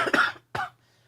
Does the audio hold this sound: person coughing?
yes